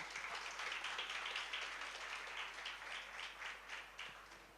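An audience at a school annual day celebration claps steadily for playgroup students on stage, a faint, distant wash of applause with uneven bursts throughout.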